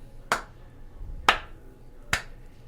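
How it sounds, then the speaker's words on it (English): A single person gives a slow clap: three sharp, close hand claps spaced about a second apart over a quiet background. "I just have to give a nice little slow clap"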